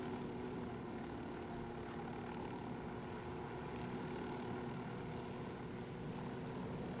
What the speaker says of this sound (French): Et pourtant, nous y allons en hélicoptère.